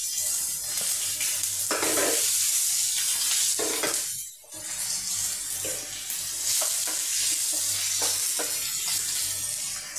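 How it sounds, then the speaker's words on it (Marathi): Finely chopped ginger and garlic fry in a pan with split chillies for Goan chicken 65, a bright crackling sizzle broken by scraping stirs and a brief lull, no talking. "मागीर बारीक चॉप केले आले लसूण ते घालपाचे."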